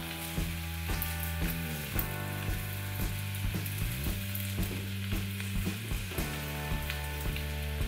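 A dim sum roll, seam side down, fries in a pan with a steady close sizzle, punctuated by repeated light scrapes and taps of turning and stirring.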